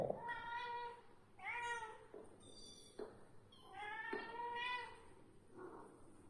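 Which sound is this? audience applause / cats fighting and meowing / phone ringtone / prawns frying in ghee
cats fighting and meowing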